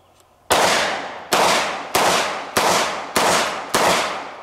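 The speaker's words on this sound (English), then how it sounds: "I'm gonna shoot the revolver through the sleeve." Six sharp revolver gunshots fired through a jacket sleeve, evenly spaced about half a second to a second apart, each a loud close crack with a decaying tail, and no talking.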